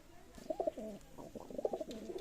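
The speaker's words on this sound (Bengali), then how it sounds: "এখানে একজোড়া গোল্ডেন কবুতর আছে দেখেন" A pair of golden pigeons cooing close by, soft repeated throaty coos in a steady rhythm over quiet background.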